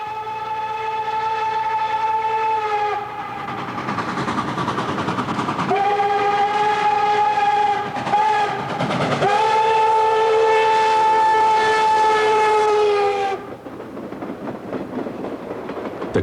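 Nickel Plate Berkshire 587 steam locomotive, restored, hauling an excursion train from Indianapolis to Logansport: a loud, sustained chime whistle sounds in long blasts with brief breaks over a steady rumbling train, then the whistle stops and the rolling rumble continues.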